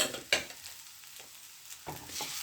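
Smashed idli being stirred into upma in a pan, with a sharp scrape near the start, a quiet stretch, then steadier spatula scraping and soft sizzle toward the end.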